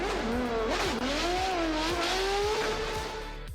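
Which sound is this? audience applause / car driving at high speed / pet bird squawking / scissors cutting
car driving at high speed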